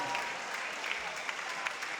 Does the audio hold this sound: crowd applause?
yes